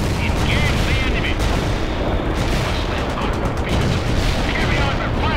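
Massed gunfire and artillery from units firing in the World in Conflict strategy game form a dense, continuous roar of shots and booms, loud and unbroken, with faint radio-style unit chatter mixed underneath.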